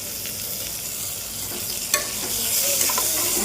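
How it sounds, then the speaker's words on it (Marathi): Tomatoes sizzle steadily in a hot pan, with a light clink of a utensil stirring partway through and the frying growing a bit louder. "पत्ता आणि टमॅटो परतून घेऊ"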